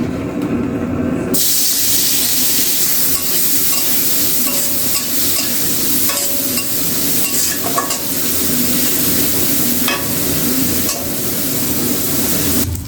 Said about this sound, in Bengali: তেল দিয়ে দিলাম চিংড়ি মাছটি দিয়ে দেবো